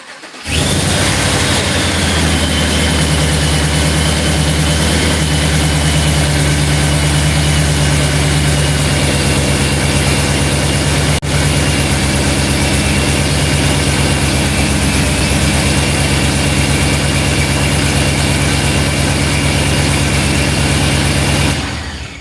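A race car engine in a garage fires up and settles straight into a loud, steady idle with a deep rumbling drone that holds unbroken for about twenty seconds before cutting off.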